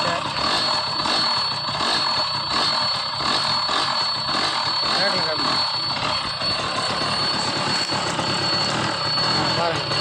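A 2015 TVS XL heavy duty moped engine runs steadily after starting, a continuous close buzzing drone throughout, with someone talking over it.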